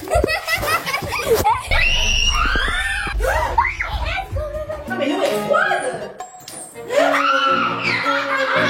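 Several voices scream and shriek loudly around a new puppy at home, mixed with squeals, giggles and excited talk, the yelling rising in bursts throughout.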